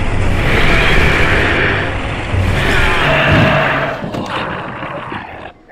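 A bomb blast rumbles through a horror game, a loud sustained boom and roar that swells, dips briefly, surges again and then fades away.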